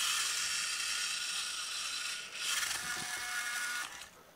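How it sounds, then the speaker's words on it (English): A small electric drive motor from a Massey 8680 model tractor, loaded down to near stall, gives a steady high-pitched mechanical whine and grind. It holds fairly constant for about four seconds and then briefly shifts in tone. "when we loaded the motor down to an almost stall condition"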